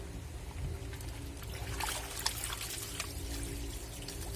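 Water swirls and sloshes inside a running Black & Decker washing machine loaded with uniforms, a soft, continuous churning trickle with low motor rumble beneath, fairly quiet and without voices.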